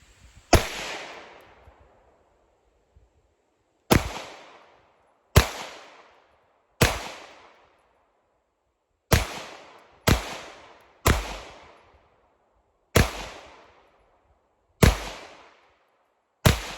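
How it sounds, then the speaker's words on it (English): Sharp pistol shots from a Staccato P DPO ring out one at a time, about ten in all at uneven intervals, each a loud crack with a short echoing decay and silence between. "let's put some rounds through this"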